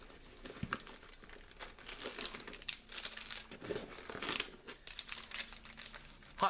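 Crinkly plastic packaging of Hot Hands hand warmers is handled close by, producing irregular crackling and rustling bursts alone for several seconds.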